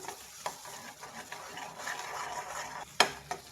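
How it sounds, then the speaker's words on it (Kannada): Egg being stirred and fried in a pan over a medium flame while making a village-style drumstick-leaf curry, with quiet sizzling, soft scraping strokes and a sharp clink near the end. "ಇದನ್ನು ಮಿಕ್ಸ್ ಮಾಡಿ ಚೆನ್ನಾಗಿ ಫ್ರೈ ಮಾಡಬೇಕೀಗ. ಮೊಟ್ಟೆ ಹುಡಿ ಆಗೋವರೆಗೂ ನಾವು ಫ್ರೈ ಮಾಡಬೇಕು."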